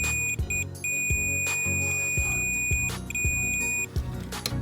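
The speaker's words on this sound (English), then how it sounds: "you can hear that that thing beeps, so those are connected" A steady high electronic beep from a continuity tester checking brake light wiring sounds continuously, briefly cutting out a few times, over low background noise and some clicks.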